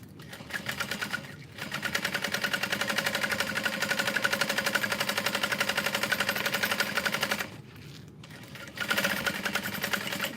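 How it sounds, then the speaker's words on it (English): A sewing machine stitching a backpack, running in fast, even, rapid-fire bursts close by, stopping briefly twice before starting again, with no talking. "We're gonna sew that in place."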